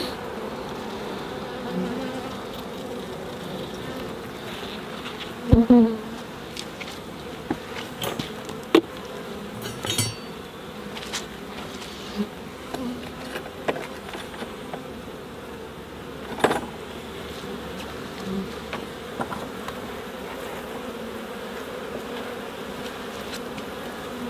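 A dense, continuous hum of honey bees fills an open hive infested with small hive beetles, with scattered sharp clicks and knocks from frames and tools rising over the steady buzz.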